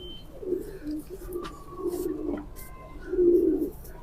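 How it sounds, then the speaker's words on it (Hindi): Pigeons of the kind fanciers call 'dub' coo in low, throaty, rolling phrases, three bursts close to the microphone with short pauses between, a louder coo at the end, and a faint chirp in the background. "ये वो कबूतर हैं जिनको डब वाले कहते हैं।"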